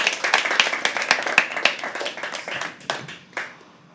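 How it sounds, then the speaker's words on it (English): A small audience at a live poetry open mic claps for a few seconds, loud at first and then thinning to a handful of scattered claps before fading out. "another round of applause for that"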